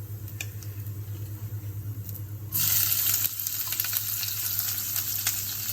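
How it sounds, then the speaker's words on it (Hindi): Long-sliced onions hit hot oil in a pan with cashews for pumpkin kofta gravy, and the soft background hum jumps into a loud, steady sizzle that keeps crackling. "2 प्याज ले रही हूँ, जो इस तरह से लंबी लंबी मैं काट ली हूँ, वो डालूंगी।"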